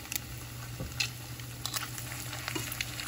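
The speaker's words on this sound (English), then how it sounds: "I'm gonna show you how I'm gonna drop my salmon patties" Salmon patties frying in hot oil on a stove set to medium, a steady close crackling sizzle with scattered pops and spits throughout, no voices.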